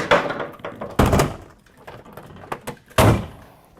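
A door is swung shut onto its latch during a hinge replacement, giving three sharp wooden knocks and clunks about a second apart, close and loud, with quieter rattles between them.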